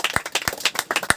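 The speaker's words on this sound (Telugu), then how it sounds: "అందరూ బిగ్గరగా క్లాప్స్ కొట్టి ప్రభువుని గణపరచుదాము" A small congregation claps loudly in praise at a Telugu church gathering, a few close sharp claps landing irregularly over a scattered patter of other hands.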